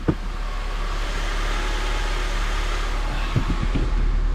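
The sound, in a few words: turbo Honda Element K-series engine idling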